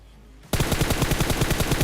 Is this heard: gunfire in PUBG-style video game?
yes